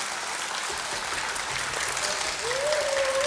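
A concert audience at a children's composer showcase applauds steadily and loudly, the clapping sustained throughout, with a faint rising tone entering near the end.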